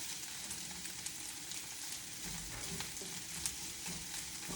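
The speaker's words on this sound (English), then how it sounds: "So nice that eggs just cook up so fast." Eggs fry in a pan, sizzling faintly and steadily with small pops and light crackles throughout, quiet and without any talking.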